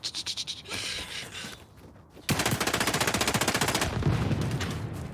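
Rapid automatic gunfire from an XDefiant match: a loud, sustained burst of evenly spaced shots, preceded by a shorter choppy volley and a brief lull.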